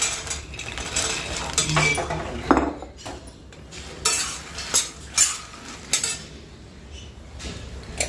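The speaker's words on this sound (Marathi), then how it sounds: "तुपामध्ये आणि आता यामध्ये मखाने टाकायचे" Makhana (fox nuts) are stirred into hot ghee in a clay pan, giving irregular scraping, clinking and rattling strokes with brief bangs of the spoon against the pot, close and fairly loud, with no speech.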